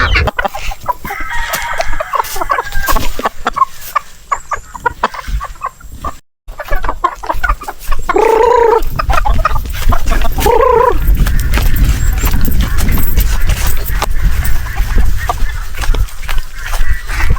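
Native chickens at feeding time in Leyte cluck and crow loudly over steady farmyard noise, with two clear crowing calls in the middle, near and continuous without talk.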